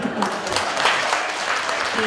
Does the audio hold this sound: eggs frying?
no